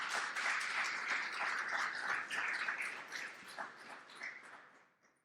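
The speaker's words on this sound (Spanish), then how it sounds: "Dale un aplauso de gratitud al Señor." A church congregation applauds steadily for several seconds, a dense wash of clapping that gradually thins and fades out near the end.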